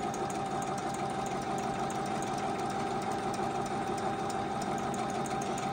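A Juki HZL-009 domestic sewing machine runs steadily while stitching a decorative design, giving a fast, even mechanical whir with a rapid needle tick and a constant hum, loud and close, without pauses.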